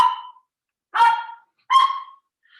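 A pet dog gives three loud, sharp barks close by, each separated by a short silence, the last one trailing into a faint fourth yelp.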